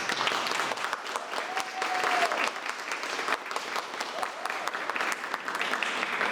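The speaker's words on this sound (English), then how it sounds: "So please join me once again in giving them a round of applause." An audience at a graduation ceremony claps steadily for the graduates. Dense, even applause fills the room throughout, close and sustained with no speech over it.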